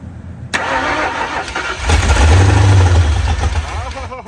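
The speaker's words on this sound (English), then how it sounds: "we're gonna dump some gas in this thing and see if it'll fire" A 1968 Mustang with Duraspark ignition cranks and catches after gas is poured into the carburetor, a loud close engine rumble swelling midway through, with people talking underneath.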